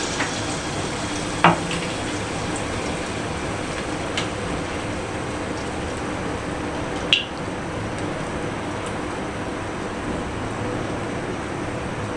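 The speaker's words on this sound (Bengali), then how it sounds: "তেলটা গরম হয়ে গেলে এখন আমি ভেন্ডির বড়াগুলি" Okra fritters frying in hot oil give a steady, soft sizzle throughout, with a couple of brief clinks of a utensil against the pan.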